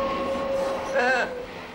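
A train passes by close to the listener in a comedy sketch, its rumbling swell peaking briefly with a tonal whine over background music or tones.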